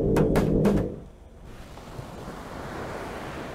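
Underwater ocean-floor ambience in the Garry's Mod sandbox game: a few louder surging bursts at first, then a steady, dull, rushing wash like distant surf, with no voices.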